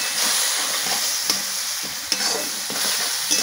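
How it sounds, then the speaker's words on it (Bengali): Spice paste of Kashmiri chilli, cumin and coriander powder with tomato fries in hot oil for a rui fish curry, a steady crackling sizzle close by with soft scrapes from the stirring spoon. "এবার মশলাটাকে ভালো করে আমি কষিয়ে নেবো যেন টমেটোটা একদম গলে যায়।"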